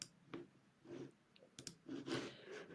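A computer mouse clicked a few times at irregular intervals, faint, soft and close, with quiet room noise between the clicks and no talking.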